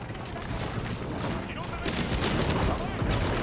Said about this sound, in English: A lot of cannons.